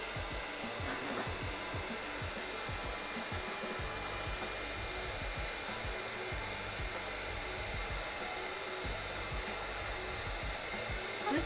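Heat gun blowing steadily while heat treating cosplay armor, a constant loud whooshing fan roar that holds unchanged throughout.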